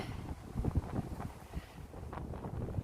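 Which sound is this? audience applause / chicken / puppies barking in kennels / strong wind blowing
strong wind blowing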